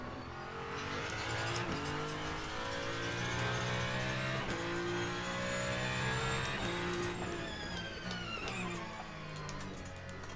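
Race cars on the track in Le Mans Ultimate, a continuous loud engine drone with shifting revs and a car sweeping past with a rising then falling whine, steady and close throughout.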